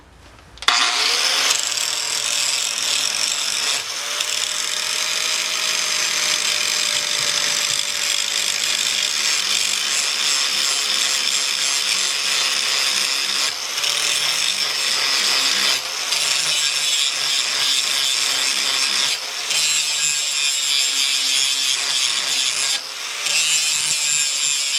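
An angled grinding disc profiling a 5160 steel knife blade, a loud continuous high-pitched abrasive screech that shifts slightly in pitch with pressure, with a few brief breaks as the blade is lifted and reapplied.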